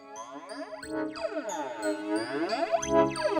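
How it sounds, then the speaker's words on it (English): A flanger effect preset from GoldWave audio software sweeps through a bright, tinkling tone. Its comb-like swirls rise and fall repeatedly over a few seconds at a modest level, with no talking. "this is actually the sound of the flanger"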